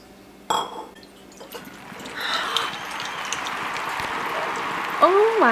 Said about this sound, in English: So now what we're going to do is we're going to pour it in the bowl